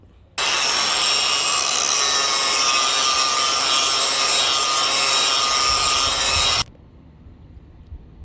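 Angle grinder beveling the end of a steel pipe, a loud, steady abrasive grinding roar that starts abruptly, holds continuously for about six seconds, then cuts off, leaving quiet room tone.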